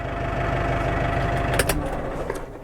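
A farm tractor engine idles steadily with a low, even throb, close and continuous, with a couple of brief clanks near the end.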